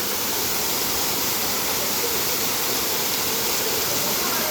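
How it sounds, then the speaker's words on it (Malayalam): A waterfall beside the road to Mundakayam, a dense, constant rushing roar of falling and flowing water, loud and close with no break. "ഈ വെള്ളം ഒഴുകുന്ന വെള്ളച്ചാട്ടമാണ്."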